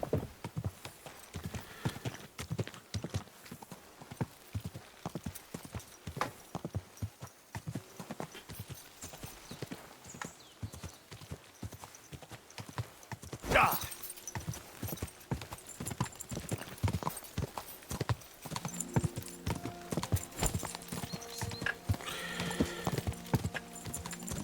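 Horse hooves clip-clopping in the medieval video game Kingdom Come: Deliverance II, a steady, close rhythm of sharp hoofbeats on the ground, with a brief louder burst midway and the occasional snort or whinny.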